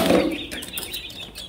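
A chicken flaps its wings in a quick, noisy burst while being caught by hand, a close flurry of feather beats with a faint cluck, fading over about a second and a half.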